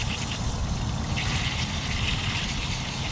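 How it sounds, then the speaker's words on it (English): A tie-dye t-shirt is rinsed out under running water, a steady close wash and trickle that holds at a constant level throughout. "We're gonna get it rinsed out."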